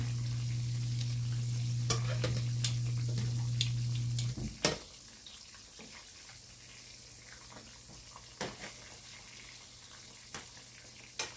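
Ribs frying in hot oil, a quiet steady sizzle with a low hum that stops partway, punctuated by occasional sharp clinks and knocks.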